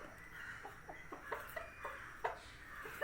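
Chickens cluck in a short run of soft, separate calls, close by and moderately quiet against a faint outdoor background, with no one speaking.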